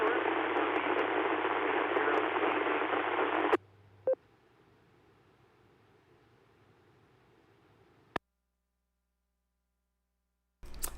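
A scratchy radio transmission from a caller comes in as a loud burst of hissing static for a few seconds, then cuts out to near silence broken by brief clicks.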